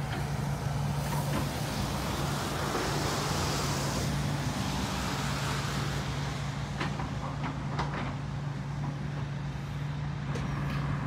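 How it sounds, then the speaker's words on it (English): Continuous heavy road rumble of lorries rolling past in a traffic jam on the A20, loud and steady, with a low engine drone throughout. "And the lorries keep on coming."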